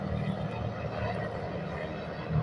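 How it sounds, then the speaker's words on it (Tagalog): A helicopter over Manila Bay produces a steady, low droning rumble that holds at the same level throughout, with faint voices underneath. "Ayan, may helicopter na, guys."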